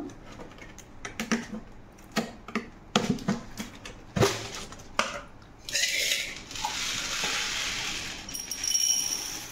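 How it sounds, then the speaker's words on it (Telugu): Dry urad dal poured from a glass onto idli rava for batter, a dense rattling patter of small grains after a run of sharp clicks, close and fairly loud with no voices. "ఇప్పుడు గ్లాసు మినప్పప్పు వేస్తున్నాను."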